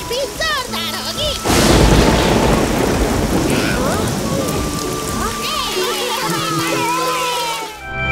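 A sudden loud thunderclap breaks into heavy, pounding rain that keeps falling steadily, with voices speaking over the downpour.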